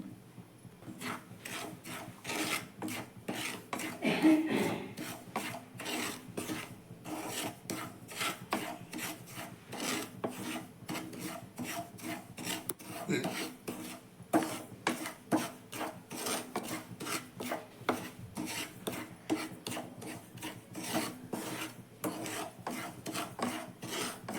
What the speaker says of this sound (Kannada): ಸ್ಟವ್ ಹಚ್ಚಿ ಒಂದು ಪ್ಯಾನ್ ಇಟ್ಕೊಂಡಿದ್ದೀನಿ ರವೆ ಹಾಕಂತ ಇದ್ದೀನಿ